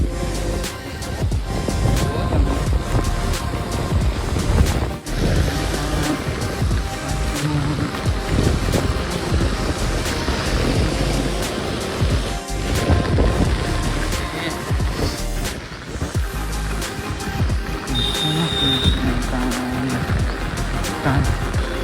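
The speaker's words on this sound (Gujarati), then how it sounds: "પવન હંગાત વરસાદ પણ હા" Loud, blustery wind roars continuously with a dense wash of rain-like noise, close and unbroken, with occasional voices underneath.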